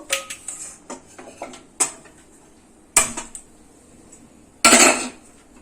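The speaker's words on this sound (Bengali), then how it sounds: "কড়াইটা বসালাম," A metal kadai wok set down on a gas stove, several sharp close clanks and scrapes of metal on the burner grate, with two louder knocks standing out.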